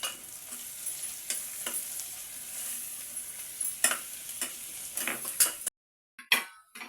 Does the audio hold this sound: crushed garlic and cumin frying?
yes